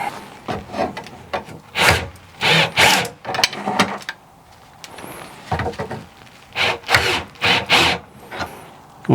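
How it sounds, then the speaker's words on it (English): Screws are driven in by hand in quick bursts of rasping, grinding turns, each set of twists separated by brief pauses, close and fairly loud with no talking. "we can actually just screw the screws into these guys first"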